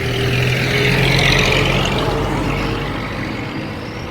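Vehicles carrying farm produce rumble along a rural road in Kinangop, Kenya, a loud close engine drone that swells and then slowly fades as they pass.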